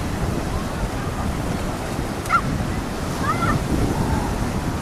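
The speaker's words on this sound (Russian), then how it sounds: "Там, где ветер, море и волны." Sea waves wash onto the central beach at Golubitskaya under steady wind noise buffeting the microphone, a constant broad roar with a few faint distant tonal chirps.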